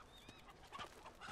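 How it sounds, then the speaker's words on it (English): Chickens clucking in the video game Uncharted 2: Among Thieves, a few short bird calls and clucks over a steady background of game ambience, fairly faint and brief. "Look at the chickens."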